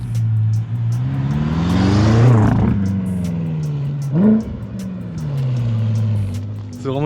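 A BMW 335d diesel car engine revs hard, pitch climbing to a peak then falling back, followed by a second sharp blip and a steady idle-to-mid throttle drone, loud and close.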